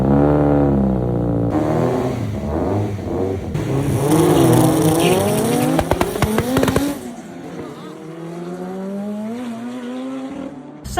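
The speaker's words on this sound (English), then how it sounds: "We're going to try and launch it and try and keep on boosting a bit more in the gears." A 1200 hp Corsa race car engine, boosted, revs hard, launches and climbs through gears, crackling and bangs under the roar, then fades to a lighter engine drone.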